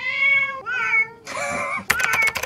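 Recorded cat meows from an iPad game for cats play in a quick series of loud, close, tonal calls, the last ones breaking into short choppy bursts, with no talk.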